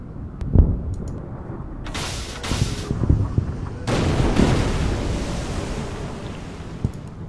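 Warship guns firing in the naval strategy game Order of Battle, a sharp boom followed by louder rumbling salvos and a long roaring wash, moderately loud with faint background noise.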